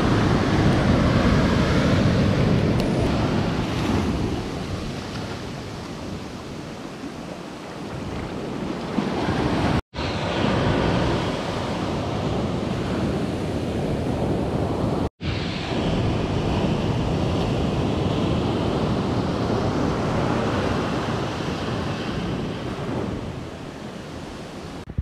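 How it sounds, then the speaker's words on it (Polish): Big ocean waves on a beach at Nusa Penida roar and crash in a continuous, loud wash of surf, with wind rumbling across the microphone throughout. "Piękna, tylko są za duże fale i nie możemy dzisiaj popływać."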